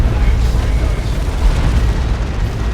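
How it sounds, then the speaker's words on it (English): A plasma cannon shot explodes in the Dawn of War 2 strategy video game during a 3v3 match, producing a loud, dense rumbling blast with continuous low boom and crackle that lasts several seconds. "Plasma Cannon gets a good shot, I think. Yes, direct hit."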